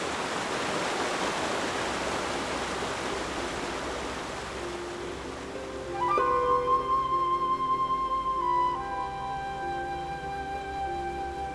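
Steady rushing roar of a waterfall at Gombe Stream, a continuous broad hiss of falling water that fades slightly as tonal music rises over it in the second half.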